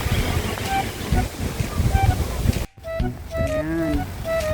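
Beach surf and wind roar steadily with a close, gusty rush and wind buffeting the microphone, then drop briefly before returning softer as voices talk nearby.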